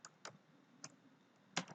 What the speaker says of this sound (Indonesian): lalu kita ketikkan naskah yang kita inginkan